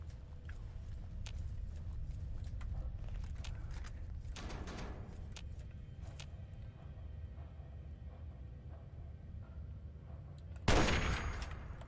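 Gunfire from a low-recoil gun in Fallout 3: scattered faint shots across a quiet stretch, ending in one loud, sharp blast near the close.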